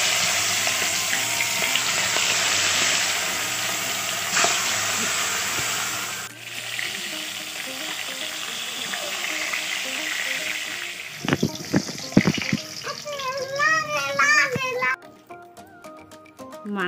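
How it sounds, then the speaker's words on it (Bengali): Rupchanda fish coated in spice powder and salt sizzles as it fries in hot oil, a steady close hiss running throughout, with a brief burst of louder crackle and a voice near the end. "তেলটা গরম হয়েছে, এখন আমি মাছটা দিয়ে দিব।"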